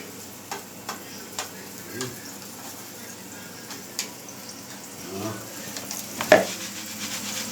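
Butter melting under a gözleme on a hot griddle makes a soft, low sizzle broken by light taps and scraping of a utensil, with a louder clatter near the end and faint voices in the background.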